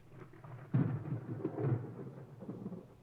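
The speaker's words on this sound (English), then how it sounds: "a reverb, some modulation probably of some sort, and then a little lightning strike" A designed lightning-strike sound effect: a low, rumbling crack bursts in and rolls on with a modulated, washy, reverberant tail that slowly fades.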